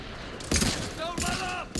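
Bursts of sci-fi gunfire from a Mass Effect 3 firefight, two loud volleys separated by a brief lull, with voices calling out over the shooting.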